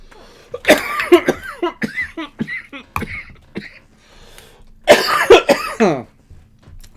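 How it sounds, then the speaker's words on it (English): Harsh, close coughing fits after vaping dabs, a first burst of several coughs, a brief lull, then a second loud bout before going quiet. "that's the one that makes me cough"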